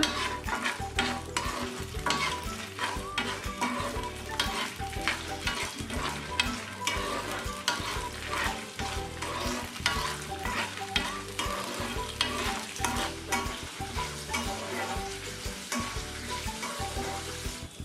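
Urad dal frying in hot oil while a spoon stirs it for temple-style tamarind rice, a steady crackling sizzle with repeated scraping strokes throughout, close and continuous with no talk.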